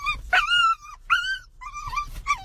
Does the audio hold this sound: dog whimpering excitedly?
yes